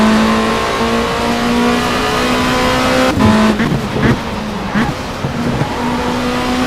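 A racing car engine in the video game Race 07 WTCC holds a loud, steady droning pitch, then dips and rises through gear changes and throttle shifts at cornering speed, with brief tire scrubs.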